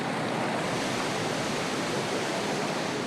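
Rushing river rapids where fishermen work, a loud, steady roar of churning water filling the whole stretch without a break and with no voices.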